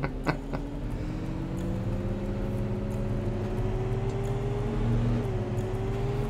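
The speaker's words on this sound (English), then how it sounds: "you can hear the tractor transmission shift gears" A tractor engine in the farming game Cattle and Crops drones steadily and slowly climbs in pitch, then drops briefly as the transmission shifts gears, with faint clicks near the start and no talking.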